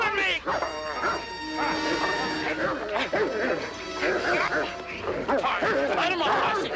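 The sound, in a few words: dog barking and attacking a man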